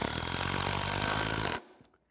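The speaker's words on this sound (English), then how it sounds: "I can spin it up on this drive spur of the lathe and start it out at the lowest speed setting" A wood lathe on its drive spur, set to the lowest speed, runs with a loud dense rattling whir for about a second and a half, then cuts off and quickly fades to near silence.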